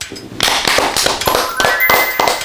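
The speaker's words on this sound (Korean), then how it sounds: "박수." Applause at the end of a football match, a burst of sharp claps from a small group, loud and close, continuing steadily for a couple of seconds.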